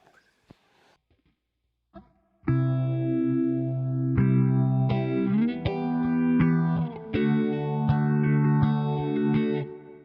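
Electric guitar through a Valeton GP200 multi-effects unit with its phaser in warm toggle mode, playing sustained chords whose sweeping notches rise and fall repeatedly; a few faint plucks come first, then loud, steady playing with no talk.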